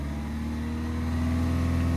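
Peugeot 308 1.6 HDi diesel held at about 2,500 rpm during an AdBlue fault check, a steady, even engine drone with a low hum, recorded close and running alone for two seconds.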